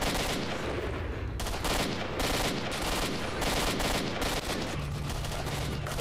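Sustained enemy gunfire in S.T.A.L.K.E.R. Shadow of Chernobyl, dense overlapping shots and bursts rattling continuously for several seconds, loud and close with no talking.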